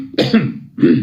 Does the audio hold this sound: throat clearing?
yes